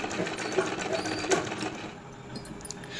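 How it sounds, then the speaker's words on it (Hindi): Sewing machine stitches printed fabric for a kurti, a fast close whirring run that eases off partway through, leaving quieter machine noise. "तो मैं यहाँ पे इसको 10 इंच तक कर रही हूँ सिलाई।"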